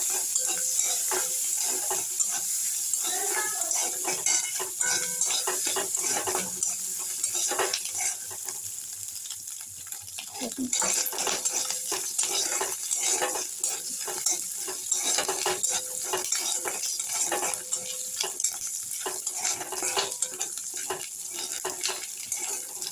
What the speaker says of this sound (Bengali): তেল গরম হয়ে গিয়েছে, এবার গুগলিগুলোকে মধ্যে দিয়ে দেবো, দিয়ে একটু ভেজে নেব।